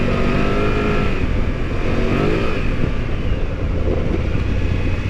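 A 2024 BMW F900GS enduro motorcycle's engine drones steadily and loudly throughout a test ride, with a sustained revving tone and constant wind and road noise.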